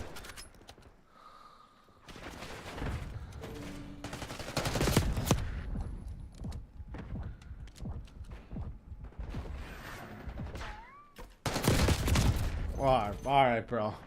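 Gunfire in a Call of Duty match plays in repeated bursts of rapid shots, some loud and close, others lighter, with a few quieter gaps between exchanges and talking mixed in.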